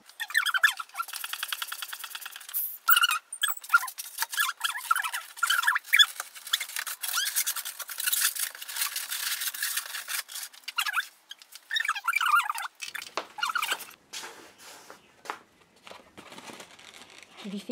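A modelling balloon being twisted and sculpted into an animal, with close, continuous rubbery squeaks, crinkles and rubbing that run throughout with only brief pauses.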